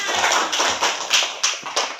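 A classroom group claps together in a rapid, steady burst of applause, fairly loud and close, with no talking.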